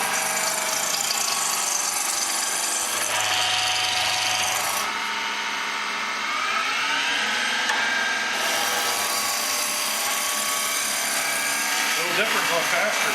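Wood lathe spindle turning with a skew-style tool cutting spiral shavings: a steady, continuous rubbing hiss of the blade on spinning wood, close and fairly loud, with shifts in tone as the cut moves along and a voice talking over it.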